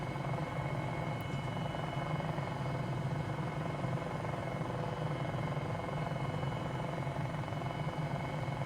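An MD500E helicopter engine idles in Microsoft Flight Simulator 2020 with a steady, moderate turbine whine and a low rumble that holds constant throughout.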